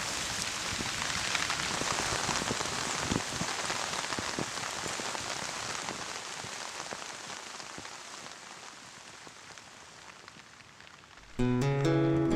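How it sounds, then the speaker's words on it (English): A heavy rain downpour falls in a forest, a dense, steady hiss of drops striking leaves and ground, continuous and loud before ending abruptly in music. "In a downpour, it can be quite chaotic."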